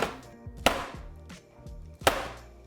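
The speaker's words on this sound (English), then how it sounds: "after 5 minutes, you're going to smash this on the counter" A baking pan of vegan cookies is smashed down on a kitchen counter, giving two sharp, loud bangs with softer knocks and clatters between them, close and with no talking.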